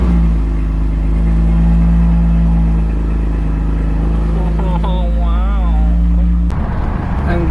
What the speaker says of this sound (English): let's get this little cold start going